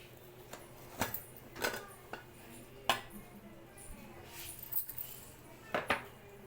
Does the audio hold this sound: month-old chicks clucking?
no